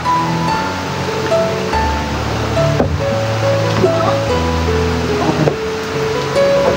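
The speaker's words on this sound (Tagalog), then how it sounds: "walang tigil yung ulan" Heavy, unbroken rain and rushing floodwater during Typhoon Carina as water enters a house. The steady, dense wash of noise stays loud throughout, with faint scattered sounds within it.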